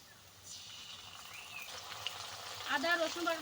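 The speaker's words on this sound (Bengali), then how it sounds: "আদা রসুন দিয়ে হালকা ভেজে নিয়েছি" Onion and ginger-garlic paste fry in hot oil in a pan, a soft, steady sizzle that builds and crackles more toward the end, heard close but fairly quiet.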